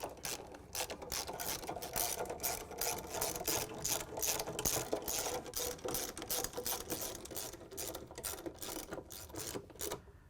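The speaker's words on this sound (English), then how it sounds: "we're going to use a 10mm socket with a long extension to take out all the bolts" A ratchet wrench with a 10mm socket on a long extension clicks rapidly and steadily while backing out the stator bolts on a Samsung washer, a dense run of close mechanical ratcheting with no talking.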